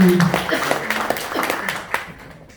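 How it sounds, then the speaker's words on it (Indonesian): An audience at a company business seminar claps in a loose, scattered burst that thins out and fades, with a voice speaking over the start. "tepuk tangan buat Bapak Ibu semuanya"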